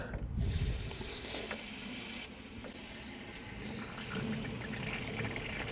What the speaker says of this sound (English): I can hear that draining out the bottom of the radiator.